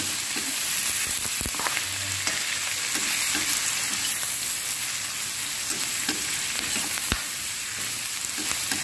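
Soya chunks and boiled cauliflower are stirred in a hot pan, making a steady close sizzle broken by scraping knocks of the spoon against the pan.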